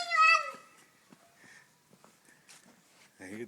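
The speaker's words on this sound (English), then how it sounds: "hear the coyotes." A coyote's high, wavering call rises briefly and fades, followed by soft rustles and people speaking nearby.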